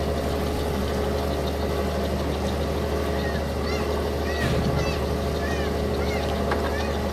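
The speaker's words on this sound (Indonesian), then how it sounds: "Di video kali ini ada kapal Fungka Permata 8 yang akan berangkat dari Pelabuhan Luwuk menuju Pelabuhan Salakan." The engine of the ship Fungka Permata 8 rumbles as it departs Luwuk port, a steady low drone with water wash and faint background activity.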